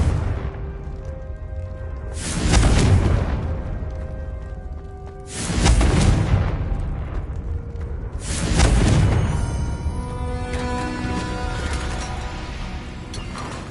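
Confringo spell explosions in Hogwarts Legacy land as three heavy booming blasts, evenly spaced and each trailing into a rumbling decay, over a constant ambient backdrop.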